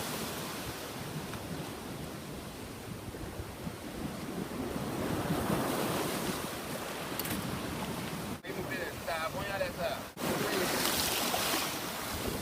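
Turbulent ocean surf off Dominica rumbles and washes continuously with gusting wind noise, swelling louder midway, while faint voices and a couple of sharp clicks break through near the end.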